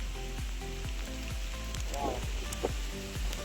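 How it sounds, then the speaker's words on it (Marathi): Cold rain falls in the Konkan region in May, a steady close patter of drops with a continuous hiss, interrupted by a few faint knocks and a low background hum. "जो पाऊस पडतो ना, त्याचे थेंब पण एकदम बर्फासारखे गारगार आहेत"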